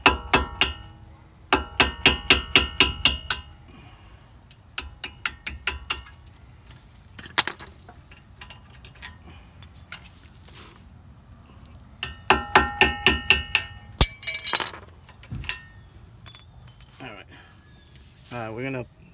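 Sharp metallic taps from an old drill bit driving out the pad pins on a Mustang GT's front Brembo brake caliper, coming in quick rhythmic bursts of a dozen or so close strikes, with pauses between them and some quieter clinks.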